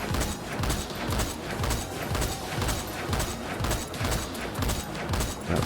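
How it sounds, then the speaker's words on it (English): A semi-auto rifle in a video game fires as fast as possible, producing a rapid, loud, steady rhythm of shots over a continuous busy backdrop with no clear speech. "now that we have the semi-auto rifle, it makes no fucking sense because, see, if I just shoot as fast as possible"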